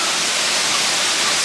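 A waterfall on a hiking trail rushes nearby as a steady, loud, dense roar of falling water filling the whole stretch with no breaks or voices.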